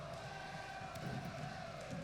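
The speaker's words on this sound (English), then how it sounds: "You have the crowd trying to rally behind Sami Zayn" Virtual arena crowd in a WWE 2K wrestling video game, a steady faint roar of cheering and rallying voices filling the background without letup.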